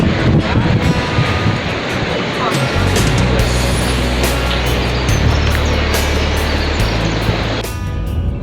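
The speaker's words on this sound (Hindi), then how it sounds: "मौसम काफ़ी ठंडा है, अच्छी हवा चल रही है।" Cold morning wind buffets a microphone outdoors on the road toward Kalam in northern Pakistan, a loud steady rush joined by a low vehicle drone, with a voice talking over it.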